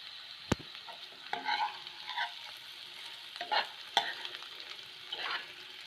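Egg pepper fry cooking in a pan, a soft continuous sizzle broken by scattered scraping stirs and one sharp clack early on, close and fairly quiet, with no voices.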